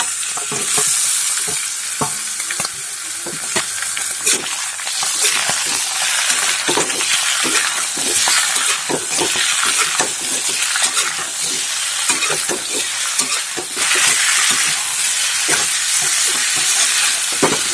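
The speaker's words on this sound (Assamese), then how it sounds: "তো ধুনীয়াকৈ এতিয়া অলপ ফ্ৰাই কৰি লৈছোঁ" Chicken meat fries loudly with ginger, garlic, onion and chillies in a hot pan, crackling and sizzling continuously while a utensil scrapes and stirs in frequent quick strokes, close up and with no talking.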